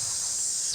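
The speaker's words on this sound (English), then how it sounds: "sizzling noises going on and whatnot" A sizzling sound effect played during a hot gossip segment on a morning radio podcast, a steady loud hiss lasting under a second and then cutting off.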